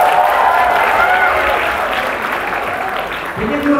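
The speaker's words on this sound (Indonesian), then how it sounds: "Kalau yang dari semester 1 boleh minta tepuk tangannya nggak?" Loud, dense applause and clapping from a large audience of first-semester university students at a campus event, a continuous roar with some cheering, with talk mixed in.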